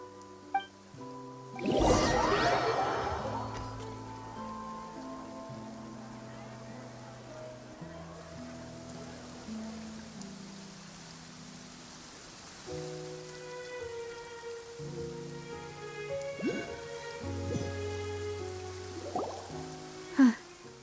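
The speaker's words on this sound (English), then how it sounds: "It's been raining non-stop for a few days now." Steady rain falls in the video game Genshin Impact, a soft continuous patter with drops, underlying voices talking and occasional louder splashes or movement noises.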